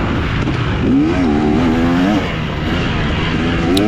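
Race car engine roaring under acceleration on an open track, loud and close with the engine note climbing and wavering, then dipping and rising again, voices faintly present underneath.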